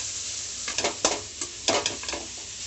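Chopped onions fry in oil in a kadai, a steady sizzle broken by several quick scraping stirs in an irregular rhythm, close and fairly loud.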